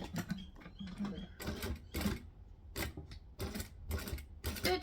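A sewing machine stitches a seam on a stained glass tote bag through bulky layers, running in several bursts with short pauses between them, fairly close and steady in level.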